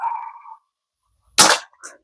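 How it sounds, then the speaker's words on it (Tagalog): A CO2-powered air pistol firing BBs from a 12-gram cartridge gives one sharp, loud pop with a brief tail, alone after a moment of quiet; a faint earlier tone fades out first. "Kita nyo, nakailang putok na ako."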